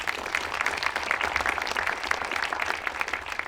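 Audience applause at an event held at the Musée de la Marine, a sustained, even patter of many hands clapping that runs steadily for several seconds with no voices over it.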